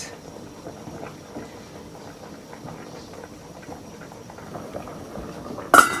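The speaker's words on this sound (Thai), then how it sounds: "นี่ครับกำลังเดือดเลยนะครับ" Tom yam soup boiling in a pot, a steady, soft bubbling and patter heard close by without talk, ending with a brief louder clatter.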